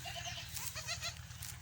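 A goat that has just given birth bleats several times in quick succession, fairly close, over a steady low mechanical hum.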